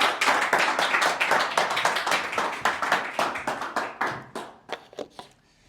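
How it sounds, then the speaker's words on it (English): A group discussion circle claps for a participant: steady, close rhythmic hand claps from a small group that gradually slow and thin out into a few final claps. "Please clap for her."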